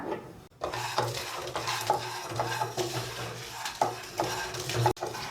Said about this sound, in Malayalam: അപ്പോൾ ഇത് ഇത്രയും ചേർത്തിട്ട് നമുക്ക് നല്ലതുപോലെ ഒന്ന് റോസ്റ്റ് ചെയ്ത് കൊടുക്കാം.